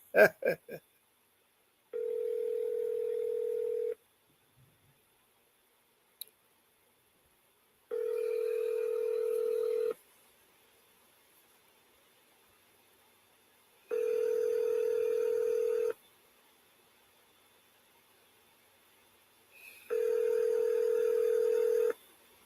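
Outgoing phone call ringback: four long steady tones of about two seconds each, separated by silences of about four seconds, preceded by a burst of short dialing beeps, clear and close with no voice over it.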